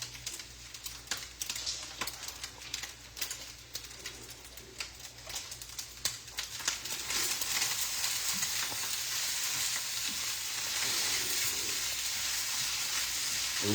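Shrimp fried rice sizzles and is stirred in a pan. A soft crackle grows louder and denser about halfway through and then holds as a steady frying hiss, with occasional scrapes and clicks.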